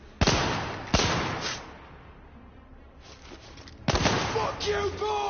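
Smoke grenades going off in The Order 1886, a few sharp pops at the start, more hissing bursts later, with softer rumble in between and some game voices.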